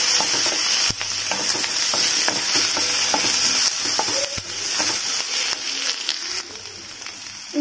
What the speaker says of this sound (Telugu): కాస్త వేయించుకుందాం ఆ పచ్చి వాసన పోయేంత వరకు